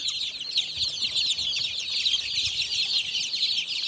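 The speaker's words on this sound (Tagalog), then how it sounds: "yun yung ating mga week old na mga sisiw" Week-old chicks on a mountain farm chirp continuously in a dense, high-pitched chorus, close and steady, with no talking.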